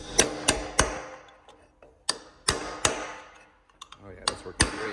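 Hammer blows drive a chisel into a globule of laser-welded aluminum, about eight sharp metallic strikes landing in uneven clusters of two or three, close and crisp, with quiet gaps between.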